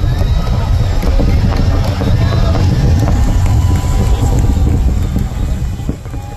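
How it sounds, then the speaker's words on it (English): SpaceX Starship rocket launch heard from about five miles away, a heavy low rumbling roar with wind buffeting the microphone and a crowd murmuring underneath, loud and sustained before easing slightly at the end. "Ladies and gentlemen, the world's tallest rocket is on its way to space. And it was so loud."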